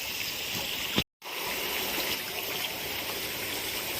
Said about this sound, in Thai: น้ำตกก็ใสไหลเย็น